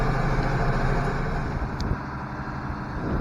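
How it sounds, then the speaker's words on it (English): An IH 1086 tractor engine runs at a steady, moderately quiet idle, a low continuous rumble heard from some distance with no talking. "So I got the tractor with the forks, and I'm gonna go pick it up with the forks and drive it home"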